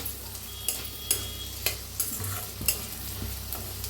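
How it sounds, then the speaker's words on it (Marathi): Chopped tomatoes roast in a spice paste in a pan, with regular stirring scrapes over a steady sizzle and a low background hum, close and even throughout. "टमाटो कापून घेतलं ते बी छान असं भाजून घेऊया"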